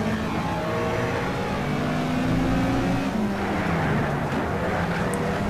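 Racing car engine in the video game Need for Speed Shift, a steady loud drone with rising and falling pitch as the car accelerates and shifts, continuous throughout with no talking.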